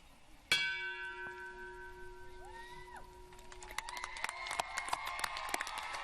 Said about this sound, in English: stand when I ring the bell for the final time.